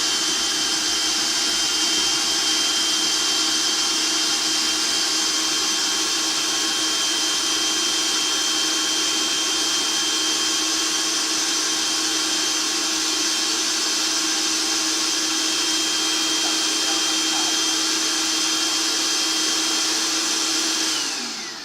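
Food processor pureeing cauliflower, whirring at a constant high-pitched drone, loud and steady for over twenty seconds, with no talking, then winding down at the end.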